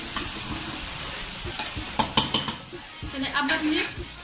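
A metal spoon scrapes and taps around a karahi pan of fish curry, a quick run of four sharp clinks landing mid-clip over a steady fry sizzle, followed by softer scraping.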